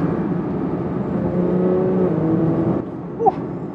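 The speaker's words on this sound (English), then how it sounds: "I want to tap the throttle a little bit." A Porsche 992 GT3 idles with a steady engine drone, then a quick throttle tap gives a short rise in revs that fades back near the end.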